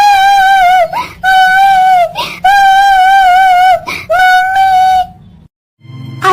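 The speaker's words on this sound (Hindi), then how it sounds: "यहाँ पर तो कोई किसी बच्ची की रोने की आवाज आ रही है।" A little girl's crying comes as long, high wailing sobs broken by brief catches of breath, loud and close, before a short quiet gap and a faint low sound at the end.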